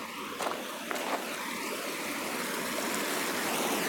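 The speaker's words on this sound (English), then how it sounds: "Ooh, there's some more water running." Steady rush of running water from a roadside stream, a continuous broadband wash heard outdoors with no talk over it.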